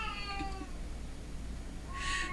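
A pet cat meows loudly indoors, one drawn-out call near the start and another at the end, each followed by a harsher, rising cry, with a low steady hum beneath.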